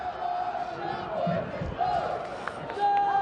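A football crowd at Jurong East stadium, a ground with no running track and stands close to the pitch, keeps up a steady roar with scattered shouts and whistles, loud and continuous, and a commentator talks over it.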